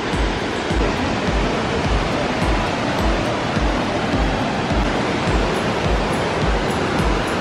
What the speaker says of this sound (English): That is the Bridal Veil waterfall.